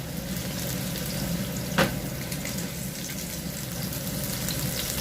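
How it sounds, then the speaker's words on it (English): Spices and yellow onion sautéing in a pan, a steady close sizzle and hiss running throughout with one brief sharp crackle near the middle. "We're going to saute it until it will be aromatic and come out all the flavor of our spices"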